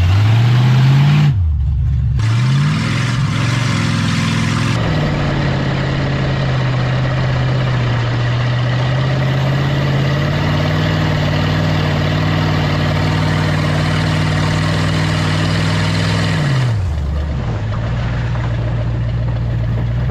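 A 1978 Lincoln's large engine runs at a steady, loud idle nearby, briefly dipping and revving a couple of times before settling back to its low hum.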